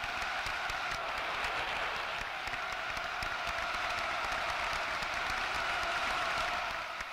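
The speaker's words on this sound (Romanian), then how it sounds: "Primiți cu îndelungi aplauze și urale" Long, sustained applause with cheering from a large crowd at a festive state assembly, steady and continuous throughout, heard at a distance.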